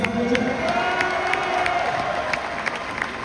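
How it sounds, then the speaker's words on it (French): A stand-up comedy audience in Paris cheers and applauds for the performer's two uncles, with lively clapping, shouts and whoops blending into a dense crowd roar. "on peut les applaudir"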